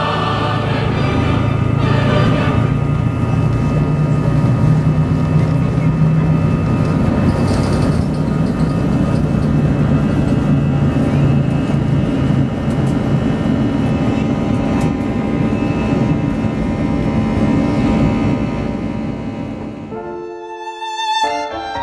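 A Eurowings A320 airliner on its takeoff roll from Stuttgart, a loud sustained engine roar with steady tonal whine heard from inside the cabin, holding for about twenty seconds before cutting off abruptly.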